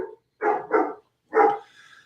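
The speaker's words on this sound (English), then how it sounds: "Sorry about the dog barking if you hear that." A dog barks indoors in the background, three sharp barks: two quick ones in a row, a pause, then a third followed by a short whine, moderately loud and alone with no talking over it.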